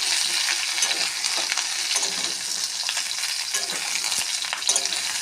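Vegetable stems and pumpkin pieces fry in hot oil, a dense, continuous crackling sizzle heard up close with light stirring and no voices.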